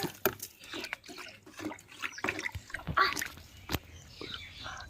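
Fermented fertilizer for rose plants is stirred into water in a bucket, giving irregular sloshing, splashing and trickling sounds nearby, with intermittent clunks and no talking.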